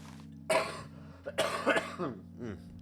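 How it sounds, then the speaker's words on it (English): A person coughs several times in short harsh bursts, with a low steady hum underneath. "This coughing is kicking my ass."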